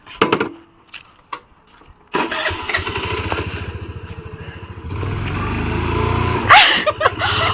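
A motorbike engine cranks and catches after a few clicks and jingles of keys, then settles into a rhythmic idle that revs up louder near the end, heard close by.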